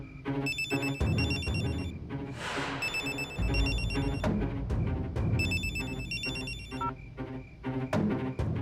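Telephone ringing after a number is dialed in a Hindi TV serial scene, several bursts of an electronic ring tone repeating in a regular pattern over faint background music, with no talk.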